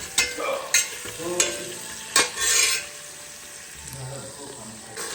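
Masala and vegetables being stir-fried in a pan, with sharp scraping strokes of a spoon over a soft background sizzle, loudest in the first three seconds, then quieter frying with a few faint clinks.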